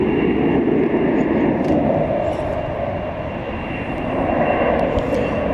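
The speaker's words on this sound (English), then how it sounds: "Got an American 7879 Dreamliner, which is also headed to the hangar here on the west side of the airport." American Airlines Boeing 787 Dreamliner taxiing at night at DFW Airport, a steady broadband jet engine roar with a low rumble, fairly loud and continuous throughout, easing slightly midway before swelling again, with no one talking.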